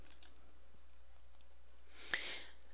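A single sharp mouse click while cancelling out of a Hangul word processor dialog stands out near the end of an otherwise quiet recording with faint room hum and a few tiny ticks.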